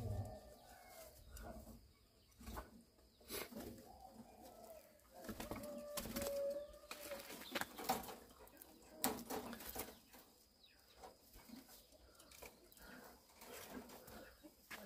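Spotted doves coo softly in a nest amid a busy, cluttered background of rustling and knocks, their low calls recurring intermittently at moderate distance.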